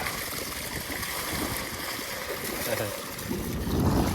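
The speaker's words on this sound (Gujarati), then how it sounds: "તાજું પાણી આવે છે" Water flows and gurgles in a steady, moderately loud stream, with a faint splashy texture and no voices.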